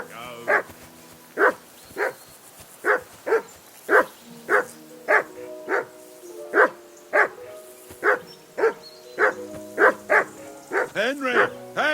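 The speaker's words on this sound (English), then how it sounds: "That barking was a pain in the" Dog barking in the medieval video game Kingdom Come: Deliverance II, a steady run of sharp, close barks about every half second, ending in a quick flurry of yips and a whine.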